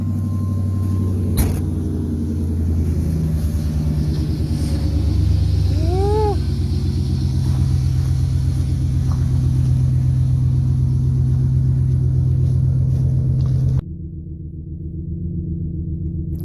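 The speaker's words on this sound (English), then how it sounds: "I love the sound of my truck." A truck engine idles to warm up on a very cold day, giving a steady, close, low rumble that holds for about fourteen seconds before dropping to a quieter hum.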